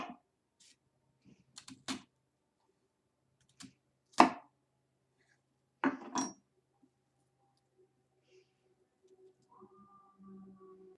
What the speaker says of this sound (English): just chop straight down